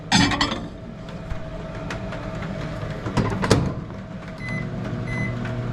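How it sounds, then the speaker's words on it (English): A microwave oven hums steadily, with clattering and clunks early on and short beeps near the end. "Throw that back in the microwave."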